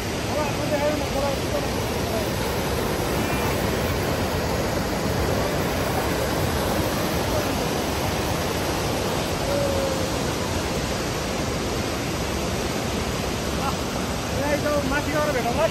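A Himalayan mountain river in Langtang National Park, on the trek toward Kyangjin, pours past in a loud, steady broadband rush that never lets up across the whole stretch.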